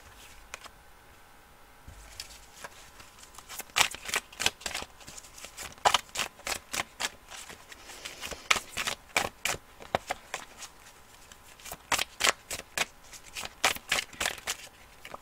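Oracle cards are drawn and shuffled, a quiet lead-in giving way to repeated bursts of crisp, papery riffling and snapping, close and fairly soft, with no talking.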